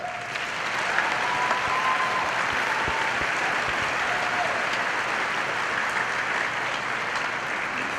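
Audience applause at a live-streamed event, sustained clapping from a large crowd holding steady for several seconds, moderately loud and uninterrupted by speech.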